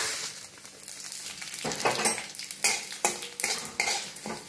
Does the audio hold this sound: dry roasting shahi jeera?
yes